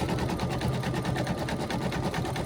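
An embroidery machine stitches the outline of a monogram design on a Norwex towel, giving a steady, fast, rhythmic mechanical whirring and needle clatter that runs close and unbroken throughout.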